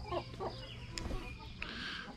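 Several hens cluck softly in short bursts, with a few sharper squawks while pecking at each other, over a low outdoor background.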